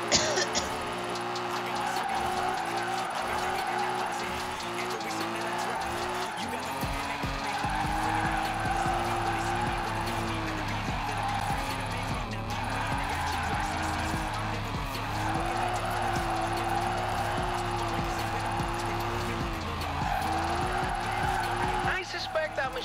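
A Subaru BRZ in the Forza Horizon 4 video game drifts with a sustained engine drone and wavering tire squeal throughout, while a voice speaks over it.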